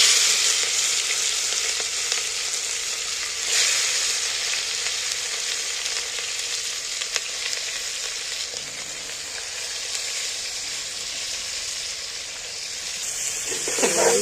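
Marinated mutton sizzles and fries in hot oil as it is stirred, a steady close hiss with occasional scraping bursts and no talk.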